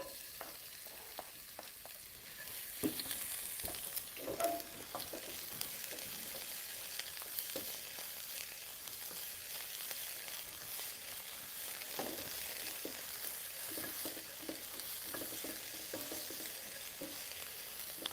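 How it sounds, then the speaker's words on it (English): Onions and scallions sauté in an oiled pan during a vegetarian cooking class, giving a soft steady sizzle with occasional stirring scrapes and clicks, faint and close, with no talking. "we're going to add our onions and our scallions or onion leeks, and we want those to be translucent"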